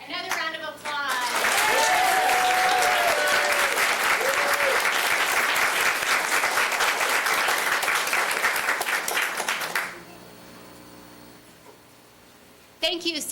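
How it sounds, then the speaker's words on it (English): An audience claps for the winner at a 4-H public speaking contest, starting after a brief voice and holding loud and dense for about eight seconds before fading, then a voice resumes over the quiet room. "Another round of applause."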